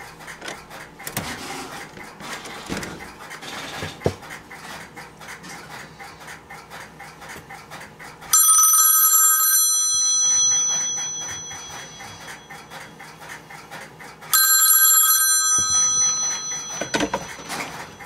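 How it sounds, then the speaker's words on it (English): A C4 type four-wire telephone ringer bell rings in two loud, sustained bursts, each about six seconds long, with quiet handling and room noise between them. "That's using a four-wire bell."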